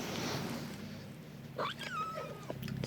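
A house cat beside a cat tree gives a soft rising-and-falling meow after a brief rustle, close and faint against quiet room noise.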